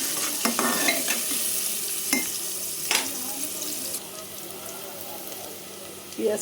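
Chopped onions with garlic and green chilies sizzle steadily in hot oil in a pan while a spatula scrapes and stirs them in several sharp strokes, close and fairly loud, with no talking.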